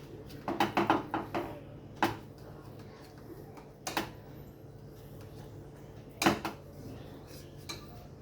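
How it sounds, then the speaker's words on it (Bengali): Knife cutting homemade sandesh into pieces on a plate, a handful of sharp clicks and taps of the blade against the dish, spaced irregularly, close and fairly quiet. "এবার একটা ছুরি দিয়ে আমি এগুলো পিস পিস করে নেব"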